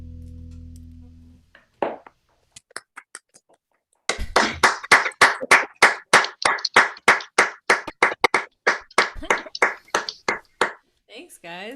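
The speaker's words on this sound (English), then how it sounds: "Love the applause." Steady, evenly spaced hand claps ring out close and clear during a live music show, preceded by a few scattered claps and a brief hum, with no talking.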